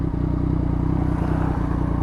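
A Yamaha MT-09 motorcycle engine runs at a steady idle-like throb during a quickshifter cutoff test, a loud, close, rapid pulsing rumble with a brief dip near the start and another around one and a half seconds.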